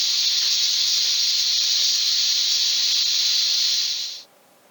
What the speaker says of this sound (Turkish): Bakalım düdüklü tencereden nasıl bir ses çıkmıştı?